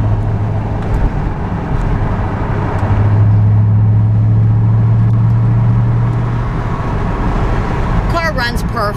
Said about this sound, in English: Car runs perfect. It's a great deal on a Corvette.